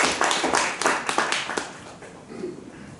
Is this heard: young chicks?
no